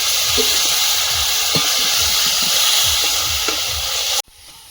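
Masala paste with salt, turmeric and a splash of water sizzles steadily in a pan, with soft stirring scrapes over a constant hiss that cuts off abruptly near the end.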